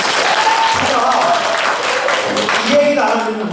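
Applause from an audience at a lecture in a Yonsei University executive program, loud and sustained, with a voice talking over the clapping.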